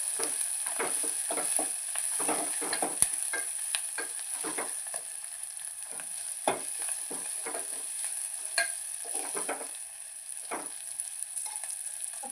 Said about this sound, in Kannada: ಮೆಣಸಿನ್ಕಾಯಿ ಹಾಕೊಂಡು ಚಂದ ಫ್ರೈ ಮಾಡ್ಕೋಬೇಕು.